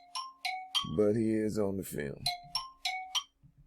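A mobile phone notification chimes as a rapid series of bright, ringing tones, about seven pulses in a steady rhythm, while someone talks briefly over the middle of it.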